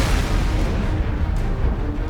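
Explosions in the Prototype 2 video game form a dense, continuous low rumble of overlapping booms with no pauses and no talking.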